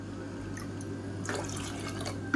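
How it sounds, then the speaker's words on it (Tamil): Tap water runs and splashes inside a mixer jar being rinsed in a home kitchen, a steady close trickle with a brief louder gush partway through and a clink at the very end. "இப்போ இந்த மிக்சியை அலசிட்டு தண்ணி சேர்த்துக்கலாம்"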